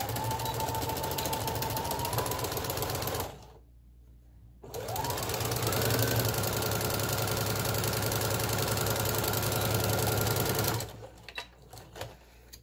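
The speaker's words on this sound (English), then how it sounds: "And the last piece to sew is your middle piece, another straight stitch." Sewing machine running a long straight stitch through jersey fabric for a bow, loud and steady with a brief pause near the start, then resuming and stopping near the end; no talking.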